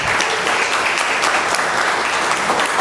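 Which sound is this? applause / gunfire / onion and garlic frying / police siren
applause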